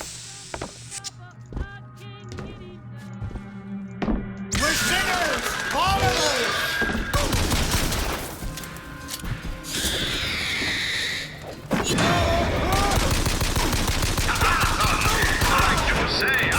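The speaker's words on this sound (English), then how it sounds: "Who is shooting at me?" Rapid gunfire bursts and impacts from combat in the video game BioShock Infinite, loud and continuous over game music, with crashes and a voice speaking in places.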